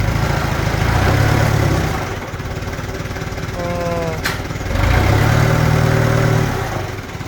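The Isuzu engine of a 1.5-ton forklift runs steadily nearby with a loud low rumble that swells and eases in intensity, a brief sharp click cutting through midway.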